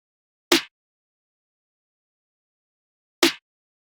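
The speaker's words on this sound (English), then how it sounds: "So this is what this snare sounds like." Two isolated snare drum hits, sharp and crisp, separated by nearly three seconds of silence.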